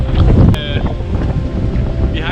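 Steady wind and sea noise aboard a sailboat mid-Atlantic during a night of squalls, with a broad rushing roar and low rumble filling the recording; close, continuous, and loud, without clear speech.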